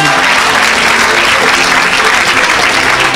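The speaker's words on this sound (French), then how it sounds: "Donne une acclamation à Jésus." A church congregation applauds and cheers for Jesus during a worship service. The clapping is very loud, dense and continuous, with voices mixed into the roar throughout.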